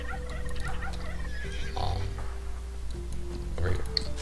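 Gobbling turkeys from the strategy game Age of Empires II sound in short bursts amid an ongoing game soundscape, with a person talking at times over the low hum.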